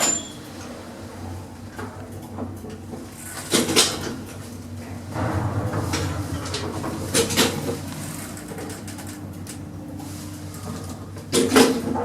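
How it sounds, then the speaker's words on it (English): Lift doors closing in a historic 1910s seaside cliff lift at Ramsgate, with several sharp mechanical knocks and a sliding rumble over a steady machinery hum, fairly close. "Doors closing. Going down."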